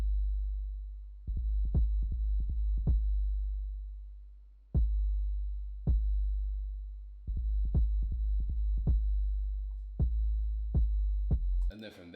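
Deep 808 bass notes layered with a simple kick drum hitting on each note, forming a sparse, booming hip-hop beat with long decaying low tones and irregular groups of punchy hits.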